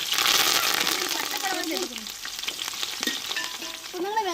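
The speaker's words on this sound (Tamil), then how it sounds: "எண்ணெய் சூடாயிருச்சுங்க, வெந்தயம் போட்டு வெட்டி வச்சு பெரிய வெங்காயத்தையும் சேர்த்துக்கிறோம்" Chopped big onions and fenugreek seeds fry in hot oil for a fish curry, a loud steady sizzle with stirring scrapes throughout, while a voice speaks over part of it.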